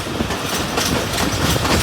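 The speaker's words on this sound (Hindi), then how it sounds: "148 ऑन मियाँ वाली एक्सप्रेस मलकवाल जंक्शन पहुंच रही है।" The Mianwali Express passenger train rolls into Malakwal Junction in the early morning darkness. A loud, close, continuous rumble of the wagons mixes with clattering wheels on the rails, and nobody speaks.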